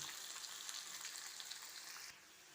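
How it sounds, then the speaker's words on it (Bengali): Onions frying in hot oil until reddish-brown, for a rohu fish curry, give a steady, close sizzle that crackles evenly throughout and softens slightly near the end. "এখন এই পেঁয়াজটা আমি একটু লাল লাল করে ভেজে নেব"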